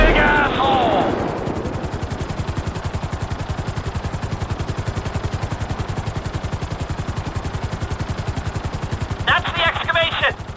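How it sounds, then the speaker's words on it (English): Helicopter in GTA 5 hovering over an excavation at a construction site, a steady rotor thump pulsing through the whole stretch, with brief radio-style voices over it at the start and end. "I need you to hold the chopper above it while I take a look."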